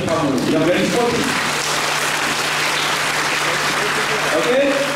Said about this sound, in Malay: Adik boleh tak berikan satu tepukan gemuruh kepada diri kamu yang very sporty